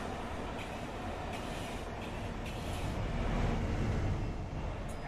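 A train rolling past in Train Simulator 2019 on the Scottish East Coast line between Edinburgh and Dundee, a steady close rumble of wheels and engine that swells in the middle and holds to the end, with no talk.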